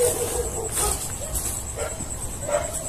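Dogs near a lone house bark in a few faint, scattered yaps under a loud, hissing background noise, sounding somewhat distant.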